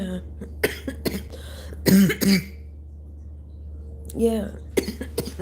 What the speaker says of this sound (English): My bad for all the coughing